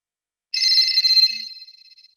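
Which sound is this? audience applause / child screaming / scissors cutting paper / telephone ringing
telephone ringing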